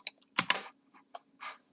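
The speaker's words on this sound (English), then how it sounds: "So just click letter T on your keyboard," Several separate clicks of keys on a computer keyboard, tapped in an irregular rhythm with short gaps, close and fairly quiet, with no voice.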